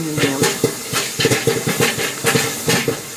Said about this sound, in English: Look at the steam.